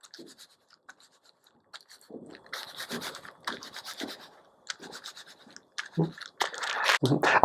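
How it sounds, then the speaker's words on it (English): A hand rubbing wool fibres around a bead held on skewers to dry felt it, giving soft scratchy rubbing strokes that come in short bursts and grow louder and denser toward the end. "we'll dry felt this a little just by placing a hand and rubbing a bit"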